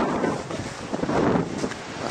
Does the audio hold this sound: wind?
yes